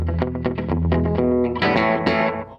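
Electric country guitar played through a Westminster Effects Chick delay pedal set for a very quick slapback echo: a rapid run of bright picked notes, then ringing chords, loud and close with no talking.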